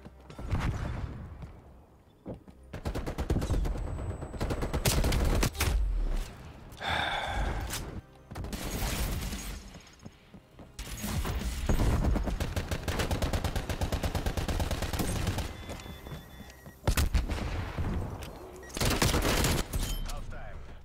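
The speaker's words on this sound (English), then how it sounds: "This gun's like a budget Tech 9." Repeated bursts of gunfire in Call of Duty Black Ops Cold War, a cheap Tec-9-like weapon firing in rapid volleys with short pauses, loud and close, mixed with other game sounds and breathing.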